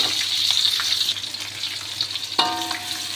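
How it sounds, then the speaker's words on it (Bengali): Chopped onion, green chili and garlic hitting hot oil in a wok, a steady close sizzle and crackle with a sharp fresh burst of frying partway through, no voices. "তো আমি কড়াইয়ের ভিতরে তেল দিয়ে নিছি। এখন দিয়ে নেব পেঁয়াজ কুচি,"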